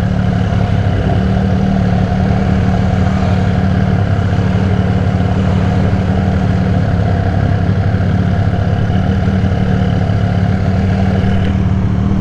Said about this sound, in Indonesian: kali ini kita mau coba Benelli Cafe Racer 1130cc. Gas tipis-tipis teman-teman.